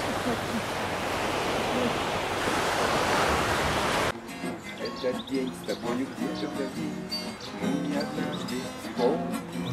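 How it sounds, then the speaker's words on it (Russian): Mediterranean Sea waves break and wash steadily on the shore, loud and broadband for about four seconds, then the surf drops back beneath a busier outdoor scene with faint voices. "Средиземное море."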